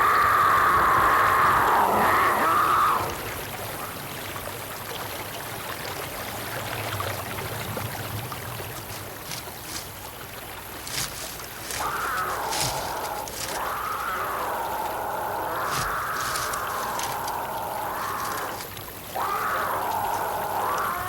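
Water rushes steadily from a waterfall in mountain lion country, a continuous broadband pour and trickle, with intermittent mountain lion cries rising and falling over it.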